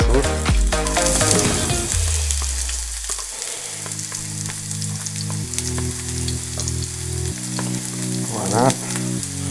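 Onions sizzle in oil that is very hot, a loud continuous frying hiss with spattering crackles and some stirring. Tonal hums sit underneath.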